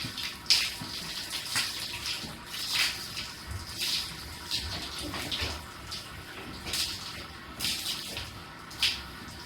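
Water from a hose or tap rinsing shampoo off a horse at a horse show: steady splashing and gushing flow with periodic surges, fairly close and moderately quiet.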